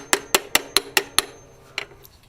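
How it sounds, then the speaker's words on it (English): Six sharp, evenly spaced hammer taps on a metal car part ringing briefly, followed after a pause by one softer tap and a faint clink. "You have a few taps with a hammer,"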